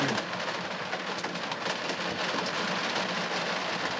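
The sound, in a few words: rain falling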